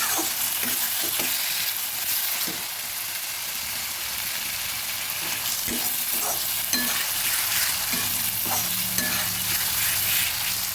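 Spice paste for a desi chicken curry with potatoes fries in a pot, a constant sizzle broken by repeated spoon stirs and scrapes close by, with no voices.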